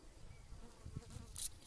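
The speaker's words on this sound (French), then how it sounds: "je me suis fait attaquer par une guêpe" A wasp buzzes faintly nearby, a soft insect drone that swells briefly toward the end, with no talking.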